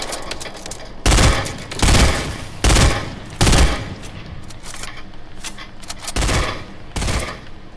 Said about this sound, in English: shoot an RPG bullet